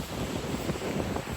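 Strong coastal wind buffets the microphone by the sea at the Giant's Causeway, a continuous loud roaring rumble with gusty swells and no voices.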